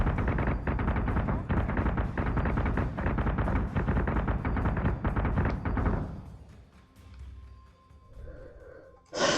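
Weapons fire rapidly at an alien ship in a Battlestar Galactica space combat game, a dense loud continuous barrage of booming shots that cuts off abruptly, leaving a low rumble and faint electronic tones.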